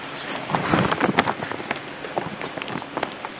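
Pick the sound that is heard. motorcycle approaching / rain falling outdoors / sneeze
rain falling outdoors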